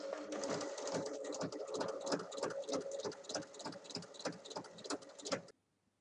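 A domestic sewing machine stitches along a marked seam line on a fabric tote bag, its needle chattering in a steady rapid rhythm for several seconds before stopping abruptly, close and clear with no talking.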